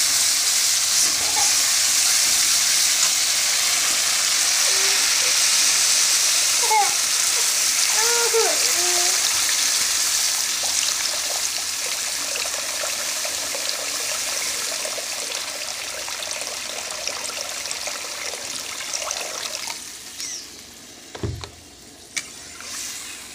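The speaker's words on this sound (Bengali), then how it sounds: "মশলাটা ভালোভাবে কষিয়ে এবার জল দিয়ে দেবো" Water poured into a pan of spice paste frying for a potol and prawn curry sends up a broad, loud hiss of sizzling steam. The hiss holds steady and slowly fades, with a few faint clinks near the end.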